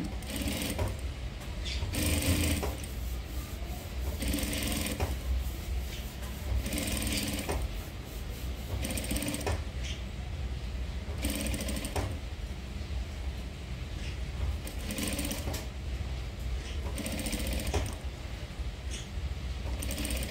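A sewing machine stitching the border of a paithani saree blouse, its rapid mechanical clatter running in repeated bursts with brief pauses between runs, close and steady throughout.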